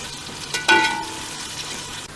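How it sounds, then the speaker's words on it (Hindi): Finely chopped onions frying in oil in a pan, a brief burst of sizzle with a bright metallic ring, settling into a softer steady crackle. "2 से 3 हमने बारीक कटी हुई प्याज को हमने हल्का सा ब्राउन करना है।"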